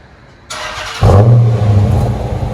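A Dodge Challenger R/T with a 5.7L HEMI and Flowmaster FX exhaust fires into a loud, close, deep rumbling roar as it accelerates away, the exhaust note holding steady for about a second and a half.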